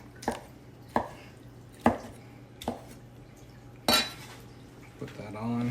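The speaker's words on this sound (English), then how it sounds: "So I'm just dicing this up." A knife chops fire-roasted chili ingredients on a board for brisket chili, five or six sharp separate strikes about a second apart, close and distinct over a low steady hum, then a clatter toward the end.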